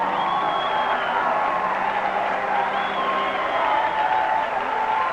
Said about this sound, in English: I can't see which one they're applauding.